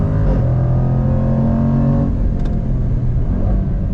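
Jaguar F-Pace SVR, a 2021 all-wheel-drive performance SUV, accelerates hard out of a turn, its loud engine note holding steady then dropping away as it downshifts, with a brief tonal blip near the end and no talk.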